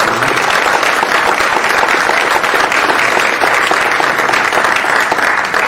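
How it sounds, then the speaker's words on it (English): Audience at a Kirkland housing equity candidate forum giving the election candidates a round of applause, a dense, even wash of clapping held for several seconds. "How about a round of applause for the candidates?"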